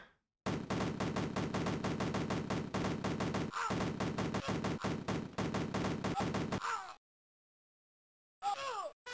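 Rapid bursts of video-game gunfire from Cannon Fodder 2 rattle almost continuously for several seconds, broken by brief pauses, then cut to silence before a short final burst.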